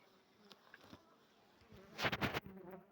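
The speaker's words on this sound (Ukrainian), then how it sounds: "Дивіться, бджола, як зайшла за кормові рамочки" Soft buzzing of honeybees close by in a hive in late February, faint at first and swelling into a louder burst of wingbeats near the end.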